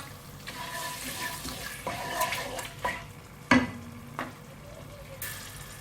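Chicken stir-fried with turmeric powder in a pan, with a soft continuous sizzle under scraping stirs and a few sharper clanks of the utensil against the pan.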